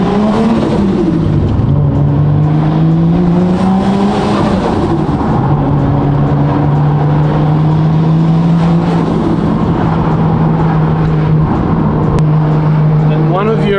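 The RB engine of a Nissan R34 Skyline revs up and settles into a loud sustained drone, rising and falling in pitch with a few throttle blips, with road and wind noise around it.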